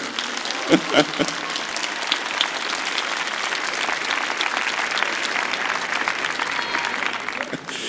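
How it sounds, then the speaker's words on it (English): Audience applause for the translators at a talk, a few sharp nearby claps opening into sustained crowd clapping, loud and continuous, with a voice briefly heard at the start. "Give a round of applause to the translators and all their hard work"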